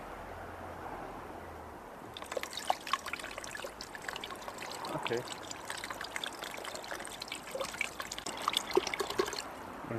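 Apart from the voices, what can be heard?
water pouring out of a bottle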